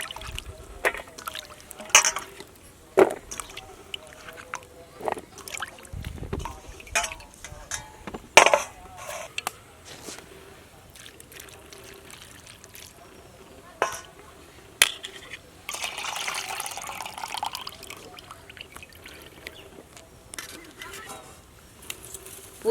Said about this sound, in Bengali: ওই লালাগুলো যাতে না থাকে ভালো করে চটকে চটকে হাত দিয়ে আমি ধুয়ে নিচ্ছি